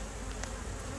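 Honey bees in a grumpy, agitated hive fill the air with a steady, close, dense buzzing drone that holds unbroken from start to finish, with no voices present.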